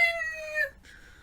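A person mimics a cat's meow with a drawn-out, whiny, high-pitched call, then a shorter, fainter second mew, close up and alone.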